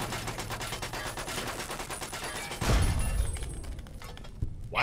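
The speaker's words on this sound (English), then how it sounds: "Why are they shooting each other?" Video game gunfire in Fallout 3 and New Vegas, a dense continuous rattle of rapid automatic shots with a heavier booming impact midway, loud and unbroken throughout.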